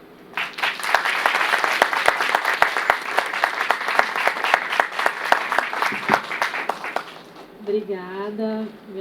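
Sustained, loud applause from a seated audience at an artificial intelligence and justice event fills the room for several seconds, then fades as a speaker begins talking.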